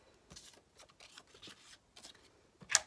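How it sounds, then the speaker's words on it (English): Scissors snip through the backing of faux fur with a few soft, faint cuts spaced apart, then one sharper, louder snip at the end, close up and without talk. "we're going to cut out our fur."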